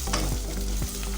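Onions frying in a pan for lauki chana dal, with a steady close sizzle and two scraping stirs of a spoon against the pan, no talk.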